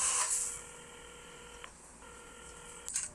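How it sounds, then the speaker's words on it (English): A telephone is dialed in a video game, with a few short electronic keypad tones followed by a steady dial-type tone, fairly faint and clean with no speech. "Carmen had started dialing the phone."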